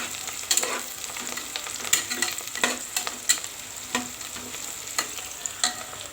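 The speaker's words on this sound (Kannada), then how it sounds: "ಸ್ವಲ್ಪ ಫ್ರೈ ಮಾಡ್ಕೊಳ್ಳೋಣ" Cumin and bay leaves frying in a pan alongside a star anise, a close steady sizzle punctuated by regular spatula scrapes and taps, with no talking.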